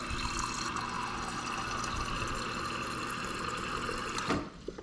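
Water pours steadily from a refrigerator dispenser in a penthouse condo kitchen, a continuous close splashing fill that runs for several seconds and then stops abruptly.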